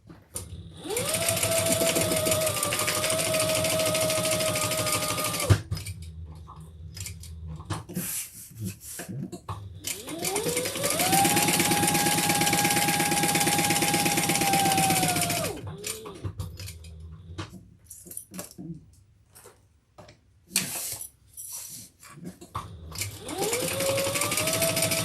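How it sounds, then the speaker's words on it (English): A sewing machine stitching a crossbody handbag runs in long, steady whirring bursts, each several seconds long and separated by pauses with small mechanical clicks and handling, loud and close with no talk. "Then we're going to sew that on 3 sides."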